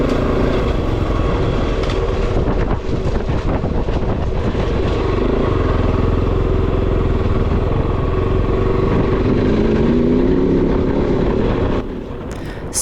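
A Can-Am Origin electric motorcycle carries its rider along, giving a steady whirring drive hum under heavy wind buffeting that stays loud and close throughout, then a rising whine near the end before the noise drops.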